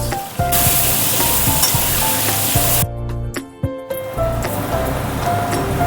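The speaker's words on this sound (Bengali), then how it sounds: "এই পেঁয়াজ কুচোনোটা এবার দিয়ে দেবো। দিয়ে পেঁয়াজটাকে ভালো মতন করে ভেজে নেব।" Chopped onions hit hot oil in a pan for posto chicken and sizzle loudly and continuously, with a brief pause of quieter clinks and stirring before the hiss resumes.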